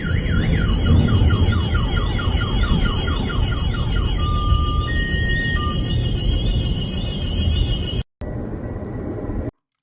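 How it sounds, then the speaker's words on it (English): Several car alarms wail together in a coastal town after a drone explosion, loud overlapping warbling and swept sirens over a rumbling background, then a sharp cut and a brief quieter stretch. "it set off a bunch of car alarms after this"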